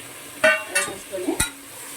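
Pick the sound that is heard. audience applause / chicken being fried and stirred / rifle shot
chicken being fried and stirred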